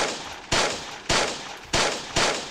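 Gunfire in the Roblox battle royale Salvage: four sharp, evenly spaced shots about half a second apart, each a bright crack with a short decaying tail, heard alone without talk.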